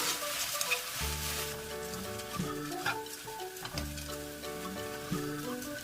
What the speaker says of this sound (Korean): 양념이 바글바글 끓어오르면 볶아놓은 멸치를 넣어 양념을 골고루 입혀주며 볶아줍니다.